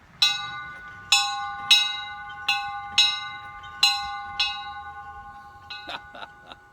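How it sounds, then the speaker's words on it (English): A metal bell referred to as the Liberty Bell rings about seven times in a steady rhythm, each strike followed by a long ringing decay, then a few quicker, lighter dings close by. "a ring of the old Liberty Bell"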